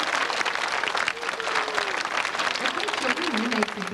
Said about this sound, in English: Let's give our ensemble a nice applause.